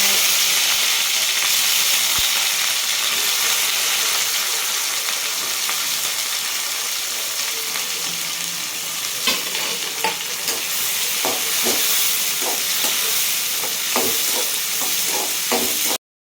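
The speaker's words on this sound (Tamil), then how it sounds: "நல்லா வதங்கின உடனே இஞ்சி இஞ்சியை போட்டு வெங்காயம்" Onion and ginger sauté in a pan for ragi semiya, a loud steady sizzle and hiss that later picks up repeated scraping clicks from stirring, close and continuous with no talking.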